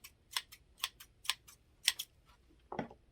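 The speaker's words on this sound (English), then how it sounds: "We're going to cut with our scissors." Scissors cutting paper for a paper rocket craft, a series of short crisp snips in an irregular rhythm, close and fairly quiet, with a softer rustle of paper near the end.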